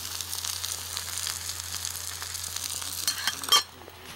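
Food sizzles and fries steadily on a small adjustable camping stove outdoors, a loud close hiss with light stirring scrapes, ending in a sharp clink of metal near the finish.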